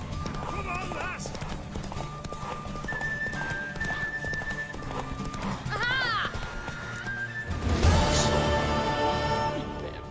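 A mare gallops with rapid hoofbeats clip-clopping along, joined by whinnies and neighs, while people shout and talk over the drumming hooves, with a louder crash of sound near the end.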